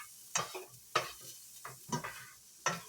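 A utensil stirs charred food around a metal frying pan, giving a handful of separate scraping sweeps over a faint sizzle, close up with no talking.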